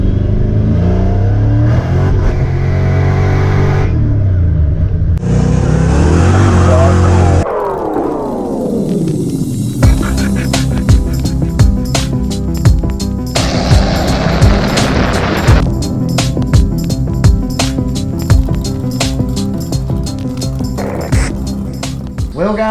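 A Ford Foxbody car's engine revs loudly during a ride, rising and falling through throttle bursts with a steady rumble underneath and a few sharp clicks and knocks throughout.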